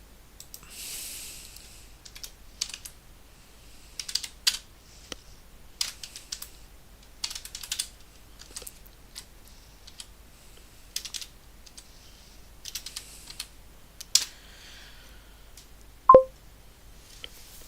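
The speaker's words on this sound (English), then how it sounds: "Let me type it." Typing on a computer keyboard, quiet irregular bursts of clicking keys spread across the span, with a single sharp beep-like tone near the end.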